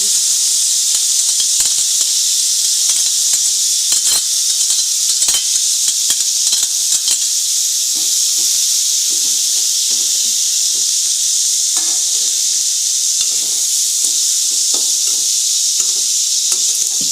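Drained cauliflower sizzles steadily in a hot pan with garam masala and chilli powder, a loud continuous frying hiss broken by frequent light scrapes and taps of a stirring spoon.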